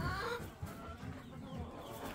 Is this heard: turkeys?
yes